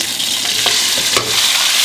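Broad bean paste and fermented black beans sizzle in hot oil in a wok, loud continuous frying with a few scraping stirs of the spatula.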